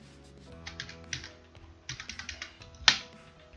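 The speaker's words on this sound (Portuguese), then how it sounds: "é só digitar também lá na minha planilha." Keys on a computer keyboard are tapped in short quick clusters while figures are entered into a spreadsheet, with close, crisp clicks and one sharper final keystroke.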